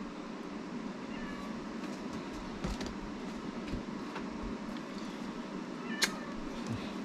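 A pet cat meows a few times softly over a continuous low rumbling background in a kitchen, the calls brief and somewhat distant, with no talking.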